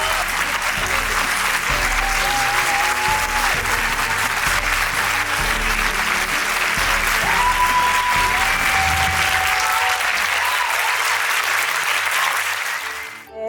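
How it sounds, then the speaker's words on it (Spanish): Sustained audience applause fills a presentation hall at the Annecy animation festival, a dense, steady wash of clapping lasting over ten seconds before tapering off abruptly at the end; faint tonal sounds float above it. "al final nos aplaudieron por mucho tiempo en un momento de la presentación"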